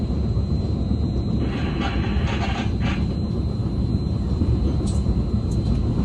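A passenger train runs on rails near South San Francisco with a steady, loud low rumble and rolling clatter throughout, plus a few faint high squeals and ticks, with no talking.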